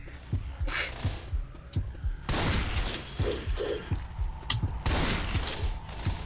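Gunfire in the video game Left 4 Dead, a series of dull muffled shots and impacts scattered irregularly across the scene amid game noise, moderately loud.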